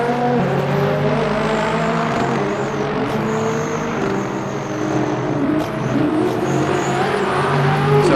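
Race car engines drone in the Le Mans Ultimate racing game during a 24 Hours of Le Mans endurance session. It is a dense, continuous wall of engine whine with shifting pitch as cars run.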